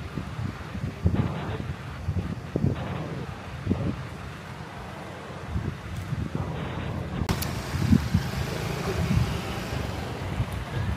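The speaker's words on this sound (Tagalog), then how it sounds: "Mahangin dito ngayon." Strong wind blows outdoors near an airport-area hotel in Mactan, Cebu, buffeting the microphone with steady low rumble and gusts for the whole stretch, with no clear speech.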